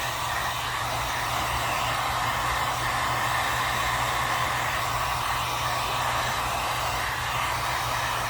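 A hair dryer blows steadily to dry paint on an unfinished wood piece, a loud, constant whooshing drone with a low hum, running unbroken throughout with no talking.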